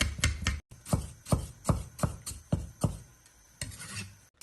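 A knife slicing a small piece of peeled ginger into thin slices on a board, about a dozen crisp, evenly spaced cuts close by with a brief pause partway through, no voices.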